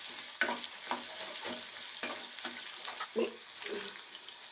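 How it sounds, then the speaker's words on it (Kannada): Onions and green chillies frying in a pan for idli upma, village-style cooking, with a utensil stirring through the sizzle in about eight distinct scraping strokes, close and steady, with no talking. "ಈರುಳ್ಳಿಗೆಲ್ಲ ನೋಡಿ ಫ್ರೈ ಆಗಿದೆ ಈಗ"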